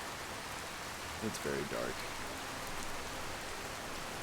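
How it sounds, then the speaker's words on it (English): Heavy rain in the video game Skyrim pours as a dense, steady hiss throughout, while a person briefly speaks over it. "This is like the heaviest that the rain gets"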